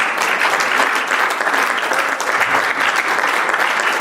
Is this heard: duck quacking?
no